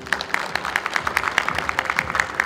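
An audience applauds at a COVID-19 international symposium in Daegu, a steady run of quick, crisp claps from a modest crowd filling the hall.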